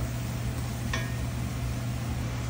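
Spices fry in a pan for moong dal and chicken khichuri, giving a steady, faint sizzling hiss with a single brief scrape of stirring partway through.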